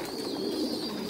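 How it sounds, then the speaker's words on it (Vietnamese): Pigeons on a pigeon farm coo in a steady, close, low murmur over a brief moment. "Còn đây là ở trên này là chim bồ câu ra ràng hết rồi anh em, rất là to này."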